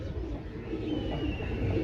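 Pigeons held in pairs for sale give low, soft coos against a faint, murmuring background, fairly close, with no speech.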